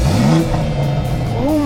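A Toyota Supra engine revs loudly at close range, its pitch climbing and falling in a couple of sweeps, with people talking over it.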